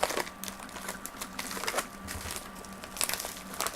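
Crinkling and rustling of paper and packaging in quick, irregular bursts as a gift package is unwrapped, close and fairly quiet, with no talking.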